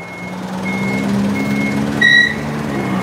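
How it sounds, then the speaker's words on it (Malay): A lorry pulls out by a roadside, its reversing alarm beeping in repeated steady tones over a continuous diesel engine rumble, close and fairly loud with no talk. "ada lori keluar"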